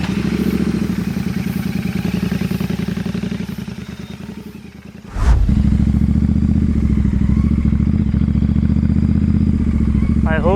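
Motorcycle engine running close by on a Japanese village road, a steady low throb that dips briefly, then returns louder after a sharp thump, with a loud rumbling drone to the end.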